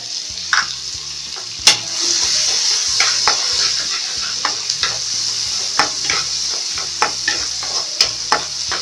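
Chopped onions sizzle and fry steadily in a hot pan for paneer butter masala, with frequent scraping stirs of a spatula clicking against the pan throughout, close and fairly loud, no talking.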